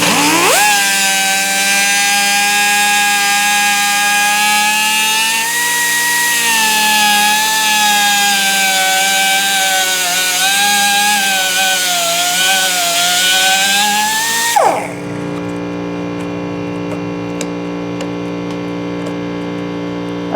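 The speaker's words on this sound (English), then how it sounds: "I just have a thin cutoff wheel," A thin cutoff wheel trims the intake of a 2025 Yamaha MT-09 motorcycle, giving a loud, steady high-pitched whine that wavers slightly under load for about fifteen seconds, then cuts off, leaving a low background hum.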